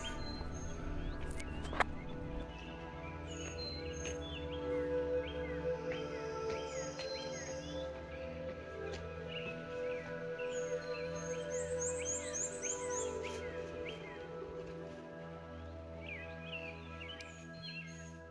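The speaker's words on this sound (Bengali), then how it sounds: "পাখির আওয়াজ শুনতে পাওয়া যাচ্ছে।" Birds chirp and trill intermittently over a quiet outdoor background with a steady low hum, calls scattered and moderately distant.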